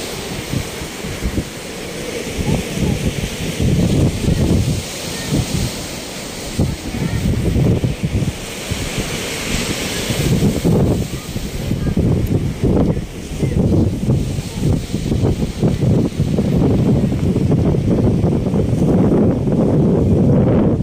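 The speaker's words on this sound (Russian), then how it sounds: "Море сегодня беспокойное." Rough sea surf on the coast at Batumi rolls and crashes continuously, mixed with strong buffeting wind noise on the microphone, loud and close throughout with no talking.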